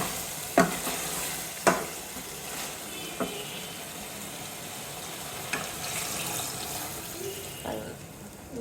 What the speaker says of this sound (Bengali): এটার মধ্যে এখন আবার একটু পানি দিয়ে ভালো করে কষাই নেব।